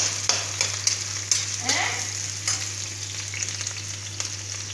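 Garlic and onion frying in a pan, a close steady sizzle with a few sharp clinks and scrapes of stirring over a constant low electrical hum, no voices.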